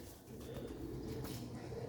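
Sialkoti pigeons sitting in the sun coo softly nearby, with low, throaty rolling calls repeating over a faint background.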